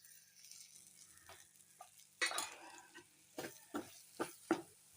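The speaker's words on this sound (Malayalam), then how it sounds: "നല്ലോണം ഒന്ന് വഴറ്റി എടുത്തിട്ട് വരാം." Chilli, coriander and turmeric powders being stirred and fried in a little oil in a pan, with soft sizzling and a run of sharp scraping stirs growing busier toward the end, close and fairly quiet.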